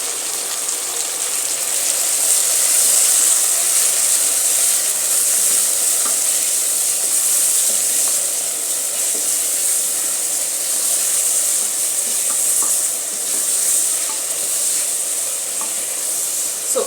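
Meat for spaghetti sauce fries in a pan with a loud, continuous sizzle close by. It runs unbroken with a steady hiss and no talking.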